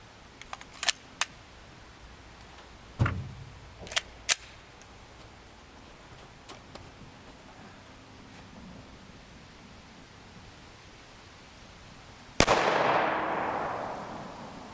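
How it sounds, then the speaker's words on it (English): A 5.7x28mm 43-grain copper solid round fired from a short-barreled rifle: one loud, sharp report with a decaying ring, preceded by several quieter clicks and clacks of handling, no voices. "then we'll take a shot from the Sbr and then we'll check against body armor"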